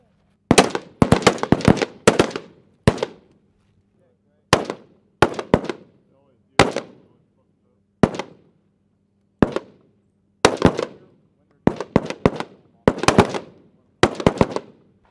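Rapid gunshots crack out at a shooting range in irregular bursts of sharp, loud reports, some in quick doubles and triples, with brief quiet gaps between volleys.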